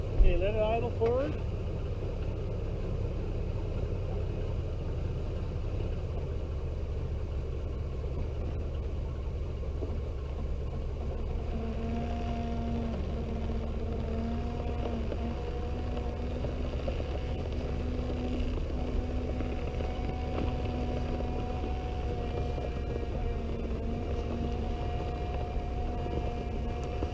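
Custom tracked machine engine idling as the machine creeps forward, a steady low rumble running throughout with a faint whine rising partway in, heard close.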